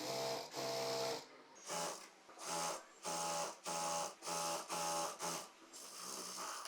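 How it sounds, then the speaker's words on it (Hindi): Sewing machine stitching a seam on a full-flare kalidar palazzo, running in repeated bursts of rapid stitching with short pauses between them, close and alone. "पूरे लंबे में यहाँ पर हमें सिलाई"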